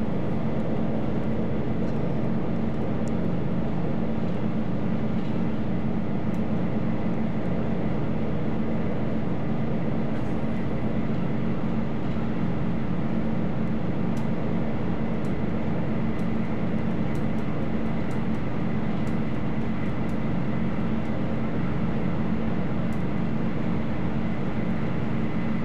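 Tilting regional train RE3461 bound for Chemnitz Hbf in a train simulator game, heard as a steady, loud, even rumble with no pauses and no one speaking.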